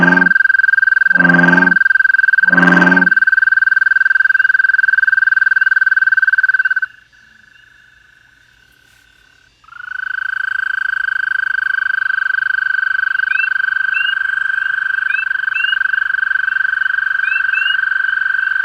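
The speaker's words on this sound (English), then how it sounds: "listen to the frogs that live in Swede Lake at night" Frogs calling at night at Swede Lake: three loud pulsing trills open alongside a steady high chorus, which drops away for a few seconds and then returns as a dense continuous chorus with chirps over it.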